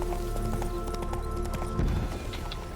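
Rhythmic clip-clop of hooves from Roach, a horse in a video game, trotting steadily over a held in-game musical drone, with a louder thump near the middle.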